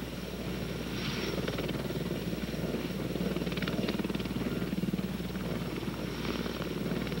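A Sikorsky CH-54 helicopter drones steadily and loudly throughout, a dense rotor and engine roar with a low rhythmic beating and no break.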